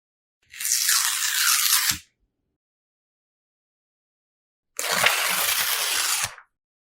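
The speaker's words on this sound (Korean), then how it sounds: "종이 찢는 효과음" Paper tearing, two long rips of about a second and a half each, separated by a silent pause, loud and close with a rough, crackling texture.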